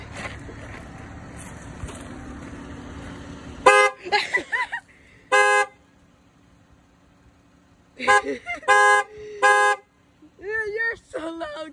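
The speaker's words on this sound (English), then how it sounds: "Dodge Grand Caravan horn outside." Several loud Dodge Grand Caravan minivan horn honks in separate bursts, some short and some held, with quiet pauses between them and a low background rumble at the start.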